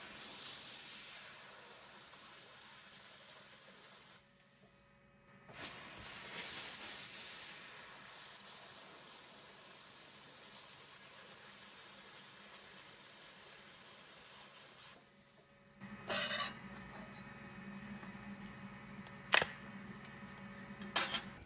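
An EETO handheld fiber laser cuts 2mm carbon steel, giving a steady hiss that fades and resumes over a long stretch, ending with crackling sputters and a few sharp clicks.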